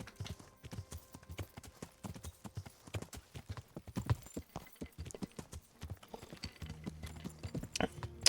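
Horse hooves clip-clop steadily in the Kingdom Come: Deliverance video game, a brisk, close rhythm of hoofbeats with a faint snort or whinny near the end.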